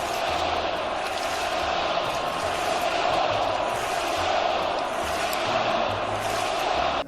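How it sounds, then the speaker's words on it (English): Minnesota Vikings fans fill the stadium with the Skull Chant during a playoff game against the New Orleans Saints, a dense, steady crowd roar with rhythmic low pulses running throughout at constant loudness. "the Skull Chant led by the new hero, Case Keenum."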